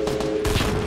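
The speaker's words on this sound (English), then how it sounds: "somebody else shooting at us from the back, I think." Rapid gunfire from the video game Fortnite crackles in a dense, continuous burst, loud and close, with a sharper volley of shots joining partway through.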